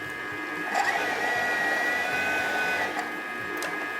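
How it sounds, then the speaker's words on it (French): A mixer blends almond powder for macarons very fast and hard, giving a steady, loud whirring drone that holds for the whole stretch with small shifts in pitch. "je mixe très rapidement, très fort, pour surtout pas chauffer la poudre d'amande"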